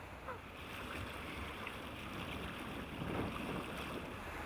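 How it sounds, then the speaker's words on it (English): A sailing boat pounds through the short, sharp chop of the Irish Sea, with continuous rushing water and wind noise buffeting the microphone. "Apparently it's the infamous Irish sea chop. Just short, sharp little waves, and you just can't beat them."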